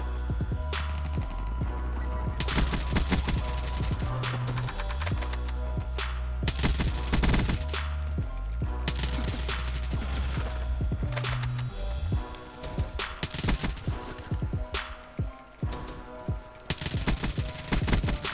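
Rapid gunfire crackles through a Call of Duty Black Ops 3 team deathmatch, with dense bursts of shots over a steady low game soundtrack, loud and continuous throughout.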